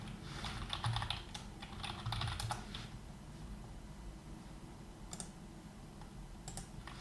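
Rapid clicking of computer keyboard keys as code is typed, a steady close run of keystrokes with brief pauses and a few louder taps.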